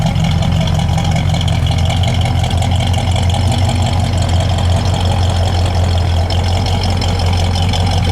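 A 1970 Oldsmobile 442 with trumpet exhaust and bumper cutouts idles steadily close by, a deep, continuous rumble with a slightly uneven lope running throughout, no voices over it.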